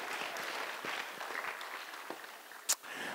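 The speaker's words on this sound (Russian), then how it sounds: "Аплодисменты для Романа, спасибо большое, вы мне очень помогли." Audience applause at a talk about supposed superpowers, a soft, steady patter of clapping running throughout at a moderate distance, with a brief sharper knock near the end.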